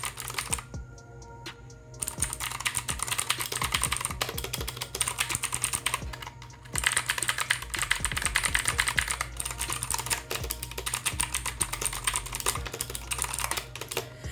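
Rapid, steady keystrokes on a T Dagger RGB mechanical gaming keyboard, close and clear, clattering continuously with brief pauses and no talking.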